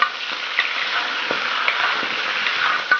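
Pork ribs stir-fried in a wok with scallion, ginger, Sichuan peppercorn, star anise, cinnamon, bay leaf, rock sugar, salt and soy sauce, giving a loud, close, continuous sizzle with scraping stir strokes and no talk.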